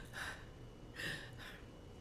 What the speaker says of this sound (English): put your hands on the thymus area right here and breathe up very sharp and raggedly